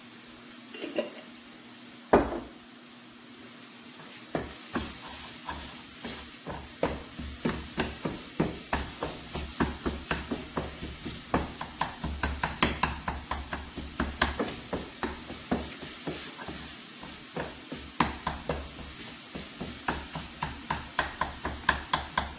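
Sausage fries in a pan with a soft, constant sizzle. A utensil stirs and scrapes it in a regular rhythm, with one sharper knock early on. No one talks.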